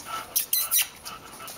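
A small dog whines in a few short, high squeaks, close by and fairly loud, with brief pauses between them.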